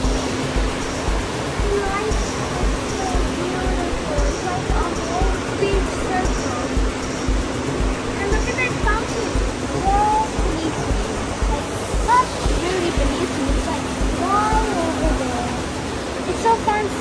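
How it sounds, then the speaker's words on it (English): Steady rushing water, like surf or a cascade, runs loud and continuous throughout, with faint bird-like chirps over it and murmuring voices in the background. "It's so fun seeing the water and hearing the sound makes me want to chill."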